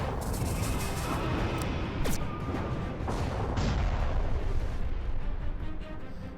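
A flak barrage attack in the space strategy game Halcyon 6 produces a dense, continuous roar of booming artillery-style bursts that sits loud and steady throughout, with a few sharper pops breaking through.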